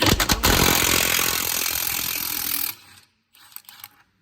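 A ratchet working a bolt loose from the rear torque mount of a MK3 Ford Focus RS/ST, loud rapid clicking close up for a few seconds, then silence and a few brief faint clicks.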